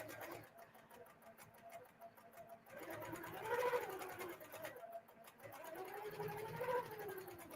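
Sewing machine doing free motion quilting on fabric, a quiet, fast needle chatter that pauses and resumes in bursts, heard close with faint background noise.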